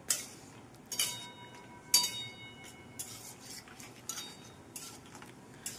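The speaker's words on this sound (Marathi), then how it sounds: "आणि काजू आणि पिस्ताचे काप आहे, तेही मस्त फ्राय करणार" Cashew and pistachio slices frying in ghee or oil for a sweet kheer, stirred with a metal spoon that clinks against the pan in a loose, irregular rhythm of close, bright taps.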